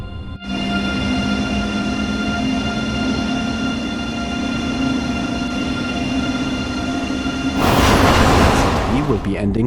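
An ICE 3 train in Train Sim World 3 braking to a stop, a steady humming cab drone with tonal whine, ending in a louder hissing release, while a voice talks over it.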